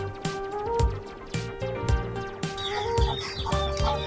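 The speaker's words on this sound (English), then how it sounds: "but there's some chickens there and here." Chickens on a small farm cluck repeatedly in short, irregular bursts, close and fairly loud, over a steady tonal background that sounds like music.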